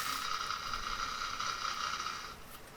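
A sewing machine running a line of stitching on a kameez, a steady close whirring hum with a fast mechanical buzz that stops near the end, no speech.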